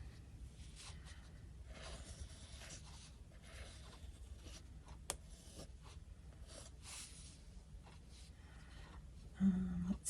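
A pencil scratches steadily across paper while someone draws, making soft, close strokes with short pauses. The sound is quiet and continuous, with a brief louder rustle near the end.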